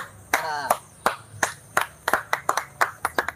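A single pair of hands claps in an irregular series of about fifteen sharp, close slaps, starting slowly and quickening toward the end, over a faint murmur of background voices.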